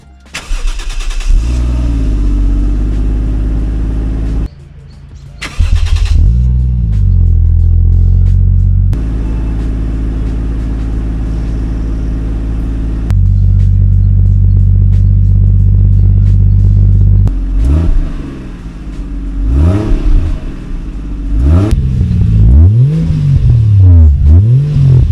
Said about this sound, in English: Now it's time for the good old-fashioned rev test.